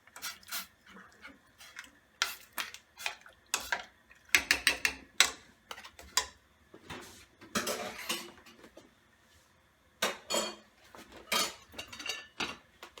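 White miso paste being worked through a metal strainer into stock in a soup pot, with irregular clinks, scrapes and clatter of utensil against metal in quick bursts and short pauses, close and fairly quiet.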